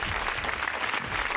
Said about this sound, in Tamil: இவங்க 5 பாயிண்ட்ஸ். நல்ல கைத்தட்டல்.